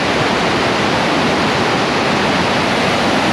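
Loud, steady roar of river rapids rushing on the Nantahala Cascades at 250 CFS, a dense continuous wash of whitewater filling the scene with no breaks or voices.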